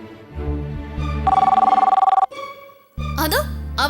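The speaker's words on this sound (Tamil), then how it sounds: "அதோ அவங்களே ஃபோன் பண்ணிட்டாங்க." A telephone bell rings in a rapid, loud trill close by, one long burst over background music, followed by a short silence before a voice speaks.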